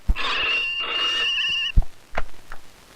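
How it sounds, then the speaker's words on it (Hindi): A telephone rings with a bright, sustained electronic tone for under two seconds, followed by short thumps and brief faint sounds, in a comedy scene setting. "फोन उठा लो।"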